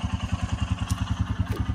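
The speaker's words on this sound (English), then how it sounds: "This is a 2014 Intimidator truck series with the 1-liter diesel engine" A 2014 Intimidator truck series utility vehicle's 1-liter diesel engine running at a steady idle, with a rhythmic low chugging and clatter heard close up.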